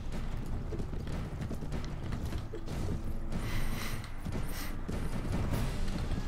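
Cavalry horses gallop in a Mount & Blade Warband battle with a continuous, dense clatter of hooves mixed with creaking and mechanical rattles, loud and busy throughout.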